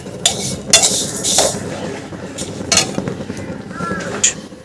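Ajwain, cumin and mustard seeds are stirred and dry-roasted in a pan, the spoon scraping and clinking against the metal in irregular strokes, close and fairly loud.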